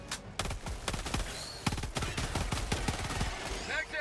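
Gunfire in Helldivers 2 against bugs, irregular bursts of sharp automatic shots cracking close and loud, with a voice talking briefly between the volleys.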